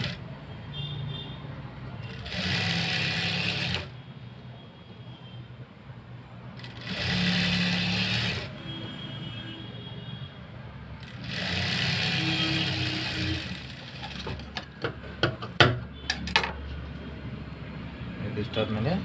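An electric sewing machine stitching yellow piping onto saree-coloured fabric, running in three steady whirring bursts of a second or two each, with a person talking in between and quick clicks near the end.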